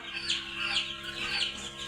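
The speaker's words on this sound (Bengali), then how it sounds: "আপনারা দেখতে পারছেন যে আমার পাখিগুলো অনেক বড় হয়ে গেছে" Quail birds in a coop give a few high, squeaky chirps in quick succession over a low background hum.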